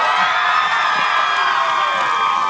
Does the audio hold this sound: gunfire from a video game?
no